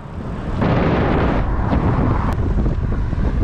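Strong wind roars loudly and continuously against the microphone, a dense low rumble that swells after the first half second and never lets up.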